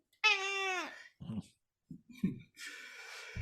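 A cat gives one clear, drawn-out meow close by, followed by a few short soft sounds and a breathy noise, in an otherwise quiet room.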